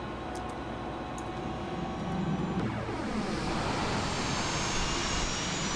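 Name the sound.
L-39 Albatross jet engine starting in FSX flight simulator video game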